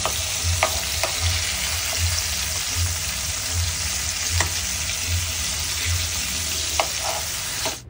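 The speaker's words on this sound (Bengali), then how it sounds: "তো একে একে আমি মাছগুলো ভাজতে দিয়ে দিলাম" Fish pieces frying in hot oil in a home kitchen, a loud, steady close-up sizzle with occasional pops and crackles throughout and no talking.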